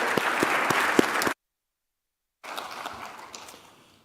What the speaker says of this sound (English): Join me in round of applause for the panel.